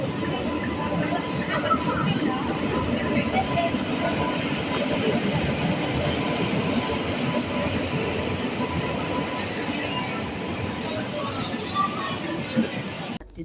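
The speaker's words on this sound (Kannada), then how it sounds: "ಈ ನಮ್ಮ ಪಕ್ಕದ ಪ್ಲಾಟ್ಫಾರ್ಮಲ್ಲಿ ರಾಯಲಸೀಮಾ ಎಕ್ಸ್ಪ್ರೆಸ್ ಬಂದಿದೆ" Rayalaseema Express train standing at an adjacent platform, giving a steady, dense rumble and hum with faint station babble throughout.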